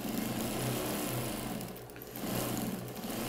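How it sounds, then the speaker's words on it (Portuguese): Sewing machine running a second reinforcing seam half a presser foot from the first on a patchwork mandala rug, a steady mechanical whir with a brief slowdown midway, fairly quiet and close. "Agora eu vou fazer uma segunda costura de meio pezinho de máquina, acompanhando a primeira costura"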